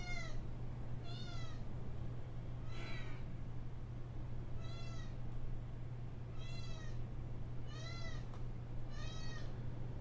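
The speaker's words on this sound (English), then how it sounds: "This is the problem with my cat coming into the office here" A pet cat in a home office meows repeatedly, about seven clear, drawn-out cries at fairly even intervals over a constant low hum.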